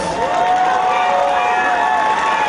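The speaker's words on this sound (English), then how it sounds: "Give both of these fighters a big round of applause." A crowd at a fight event, a 135 lb championship bout, applauds and cheers loudly, with sustained clapping, whoops and shouts filling the whole moment at close range.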